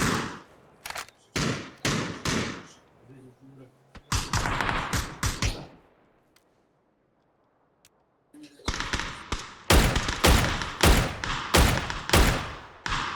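Bursts of PUBG gunfire come in loud, rapid volleys, a cluster at the start and a dense barrage near the end, separated by a quieter stretch with players talking over the action.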